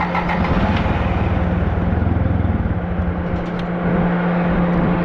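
An old lawn mower engine runs with a pulsing, uneven throb, loud and close, sagging briefly partway through as it struggles once the choke is pulled back.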